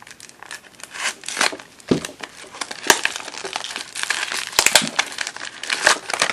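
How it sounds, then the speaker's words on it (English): Rip-tab emergency medical supply packets being torn open and crinkled by hand, a close run of loud crackling rips and crumpling plastic bursts filling several seconds, no talking. "these have rip tabs on them. You can rip them open real quick"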